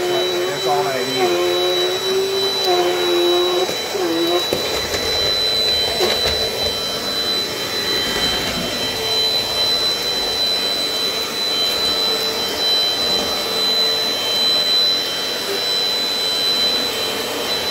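A Dirt Devil Dynamite Plus upright vacuum cleaner with height-adjuster wheels runs close by, a loud steady whine and motor roar throughout, with a brief tonal shift near the start.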